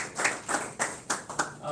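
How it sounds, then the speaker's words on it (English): Audience clapping at a World MSME Day 2023 event, a short ragged burst of several hands, fairly close and moderately loud, with brief gaps between claps. "I think she deserves a big round of applause."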